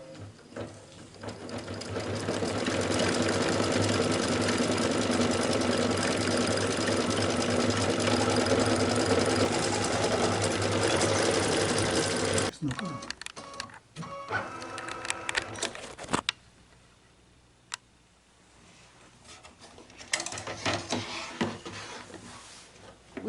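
A sewing machine runs steadily for about twelve seconds, stitching the lining of an espadrille top panel, then stops and gives a few short stuttering bursts near the end.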